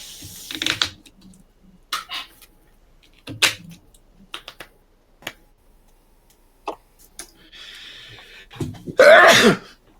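A sharp, loud sneeze bursts out near the end, following scattered quiet clicks, a cough-like sound and brief noises during a card game session.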